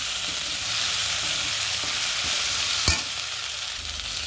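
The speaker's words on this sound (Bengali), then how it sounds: "ভালো করে নেড়ে নেড়ে মশলাটা ভেজে নিচ্ছি।" Spice paste frying in oil hisses continuously while being stirred, with soft scraping strokes and one sharp clack of the spoon against the pot near the end.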